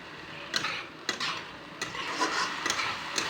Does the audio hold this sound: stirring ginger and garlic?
yes